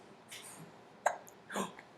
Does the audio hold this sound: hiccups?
yes